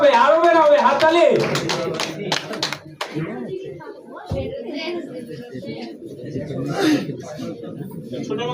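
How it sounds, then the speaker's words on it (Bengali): An audience claps at a magic show, a brief burst of hand claps mixed with a voice talking over it, followed by continued chatter. "জোরে হাততালি, হাততালি।"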